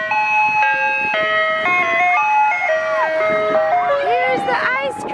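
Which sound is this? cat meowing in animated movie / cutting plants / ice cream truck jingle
ice cream truck jingle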